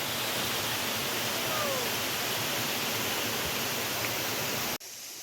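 A waterfall at a tourist spot in intense summer heat roars as a dense, steady broadband rush of falling water, loud and unbroken for several seconds before cutting abruptly near the end.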